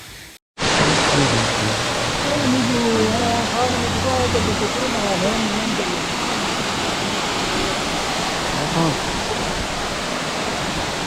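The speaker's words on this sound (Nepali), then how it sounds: "दिस इज थाहा नभएको झर्ना हो" A waterfall along the road to Everest Base Camp in Nepal roars in a loud, continuous rush of falling water, while voices murmur faintly beneath it early on.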